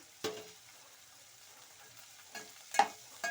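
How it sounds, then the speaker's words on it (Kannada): Chopped green beans being stir-fried in a pan, heard as a faint, low sizzle broken by a few soft scraping stirs. "ಬೀನ್ಸ್ ಎಲ್ಲ ಅಷ್ಟು ಫ್ರೀ ಆಗ್ತಾ ಬಂದಿದೆ"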